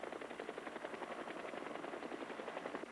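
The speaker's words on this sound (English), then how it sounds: "At all times, helicopter engines are being started or are running." A Hiller Hornet helicopter engine runs steadily up close, with a loud rapid rhythmic chopping pulse throughout and no other sounds.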